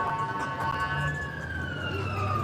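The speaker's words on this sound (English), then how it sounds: "all the sirens pop up." Emergency vehicle sirens wail with rising and falling tones along a busy downtown Toronto street by Dundas Square during a food festival, heard over steady crowd and traffic noise with voices in the background.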